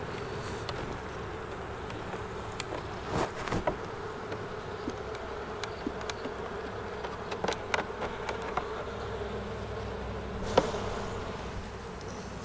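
Honey bees buzz steadily in an opened beehive, a dense continuous hum close by, broken by occasional brief clicks and knocks of hive parts being handled.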